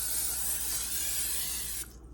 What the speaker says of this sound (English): I'm gonna spray the top of the balls